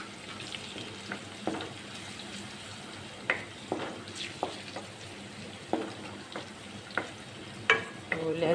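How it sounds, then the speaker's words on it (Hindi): Steady soft sizzling of crushed garlic frying in a pan, with occasional light clicks and stirring taps, fairly quiet and close. "लहसुन को हम इतना पकाएंगे कि इसकी जो स्मेल है वो दूर हो जाए"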